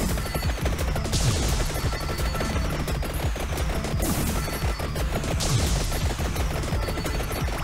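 Two guns fire nonstop in the video game Vampire Survivors, a dense, rapid rattle of overlapping shots with periodic brighter bursts, steady and loud throughout.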